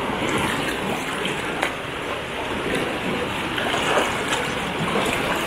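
Water lapping at the edge of a lake at Haranggaol, a steady close wash with occasional soft splashes and a light breeze, no voices.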